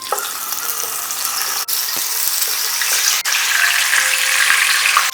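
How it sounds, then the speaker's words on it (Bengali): Chicken leg pieces frying in oil left from frying onions, a dense, loud, continuous hiss with a few sharp pops, no talking. "এরপরে পেঁয়াজ ভাজার তেলেই চিকেনের রান পিসগুলোকে ভেজে নেব।"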